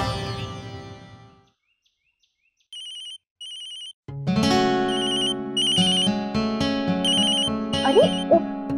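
A mobile phone left on charge rings out with a repeating electronic ringtone, brief beeping bursts first, then a loud melodic tune playing on close by, with no voices.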